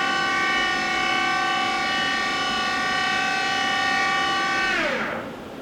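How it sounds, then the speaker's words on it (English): A Hardinge Conquest T42 big bore CNC slant bed lathe's sub spindle running at high speed, a loud steady whine with stacked tones that holds evenly, then drops in pitch as it spins down at the end. "Now we'll run the sub spindle."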